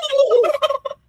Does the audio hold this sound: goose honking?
yes